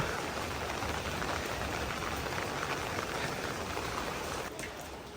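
Light rain falls steadily outdoors at dusk, a dense, even hiss of drops on surfaces that holds constant and eases slightly near the end.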